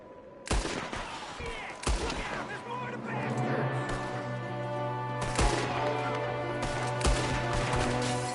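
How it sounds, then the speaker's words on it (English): Gunfire from a window in a PS4 video game: several loud sharp shots and bursts ring out, with a sustained rumbling battle ambience and a low hum between them, and a voice talks faintly underneath. "There's another one shooting from the window."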